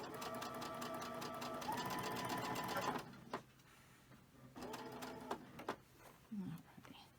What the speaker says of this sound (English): you're going to just sew right over them when you come on this other side